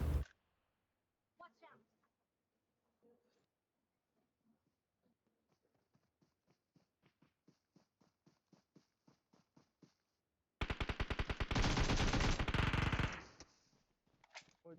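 Automatic gunfire in PUBG on the Erangel map: a long run of evenly spaced single shots builds over several seconds, then breaks into a loud, dense sustained burst that fades out.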